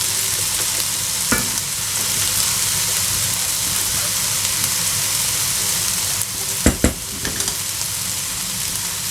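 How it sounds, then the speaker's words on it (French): Peppers, onions and garlic sizzle steadily in a pan for chakchouka, a continuous close frying hiss broken by a few sharp scraping knocks of a stirring utensil near the end. "on va mélanger tous les légumes ensemble"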